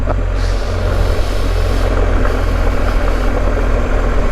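A motorcycle rides along a quiet road in northern England, its engine giving a loud, steady, close rumbling drone mixed with wind noise that runs unbroken throughout.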